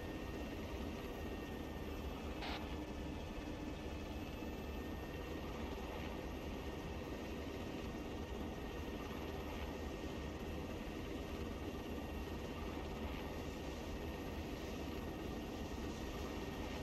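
A military helicopter lifts off in ArmA III, a steady loud rotor and turbine roar that holds even and constant with no voices.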